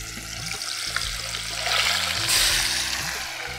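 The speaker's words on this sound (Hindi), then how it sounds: "जब तक मछली जो है वो फ्राई हो रही है और मसाला भी भुन रहा है" Fish fries in a pan with masala over a low flame, giving a soft, steady sizzling hiss that swells slightly midway over a low background hum.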